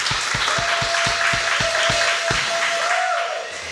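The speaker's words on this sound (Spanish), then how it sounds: "démosle un aplauso al Señor por eso" Congregation in a church service applauding the Lord, a dense sustained wash of clapping with a steady rhythmic low beat thumping underneath and a faint held tone, fading slightly at the end.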